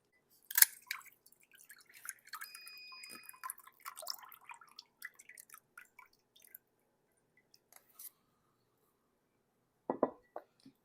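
Brine from a can of artichoke hearts drains off, with a drip and splash near the start, then a scattering of quiet trickles and small drops, and a last brief splash near the end.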